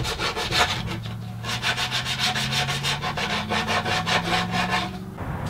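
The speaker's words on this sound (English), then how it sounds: "Now I'll just do some final hand sanding to round over the edges and smooth up any sharp" Rhythmic back-and-forth rasping of sandpaper rubbed by hand on wooden edges, rounding them over, steady strokes close up with no talking.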